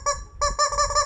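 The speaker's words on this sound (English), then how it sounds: "we get the rubber chickens out" Rubber chicken squeezed three times in quick succession, each a loud, nasal, honking squeak with a short gap after the first, close up with no talking.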